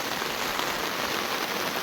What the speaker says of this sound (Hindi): बारिश की स्पीड यहाँ से महसूस होती है